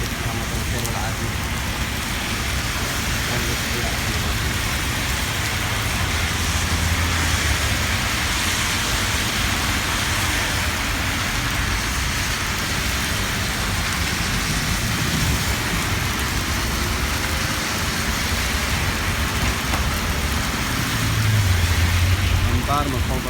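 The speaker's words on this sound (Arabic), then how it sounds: "أمطار مصحوبة برواعد." Sustained downpour on a New York City street in a thunderstorm, a constant broad rushing hiss with passing car rumble and a low swell near the end, close and steady throughout.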